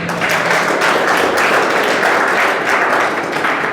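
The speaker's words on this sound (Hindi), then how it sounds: "इसमें आप सबसे पहले अपने लिए ताली बजा दो एक बार।" An audience at a Dr. Bhimrao Ambedkar Jayanti gathering claps together, producing a dense, steady burst of applause that stays even and loud through its few seconds.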